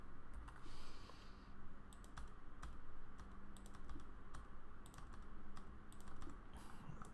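Typing on a computer keyboard while entering an AutoCAD command: quick, close, irregular key clicks and taps in short bursts, with no talking.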